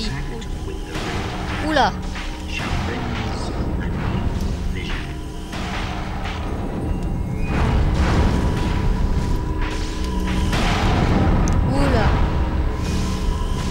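Cannons fire and explosions boom in the Drakengard 2 video game, heavy repeated thuds and blasts over a rumbling battle din, with someone talking over the action.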